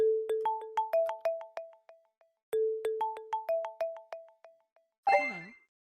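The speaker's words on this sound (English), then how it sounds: "I need you to hang up that phone right now." A phone rings inside a VR training simulation, giving two bursts of a bright, rhythmic electronic ringtone melody, then a short sharper tone at the end.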